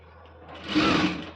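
A sewing machine stitches a school uniform skirt in a short, close burst of rapid mechanical whirring that swells and then eases off.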